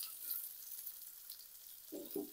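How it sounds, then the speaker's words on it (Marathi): A faint, high crackling sizzle of onion frying in hot oil on a pan continues quietly, with a couple of low clunks near the end. "मस्त तडतड आवाज येऊ राहिला मित्रांनो"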